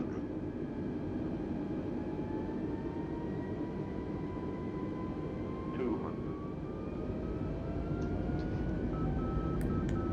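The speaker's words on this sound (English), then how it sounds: "That's that weird autopilot function you could hear with the throttling going up" Steady airliner engine drone from an Airbus A320neo in Microsoft Flight Simulator 2020, tones slowly gliding upward as the autopilot raises the throttle, constant and close, with a few faint electronic beeps near the end.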